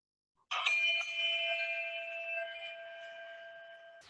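A single virtual bell chimes to open an online Rotary club meeting, one clear struck tone that rings out and slowly fades over a few seconds, heard alone and fairly quiet.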